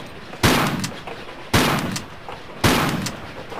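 Three loud, evenly spaced shotgun blasts from the video game Tomb Raider IV, each a sharp crack with a short decaying tail.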